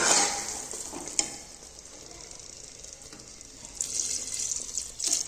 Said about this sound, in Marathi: आता ह्याच्यामध्ये आपण पाणी ओतणार आहोत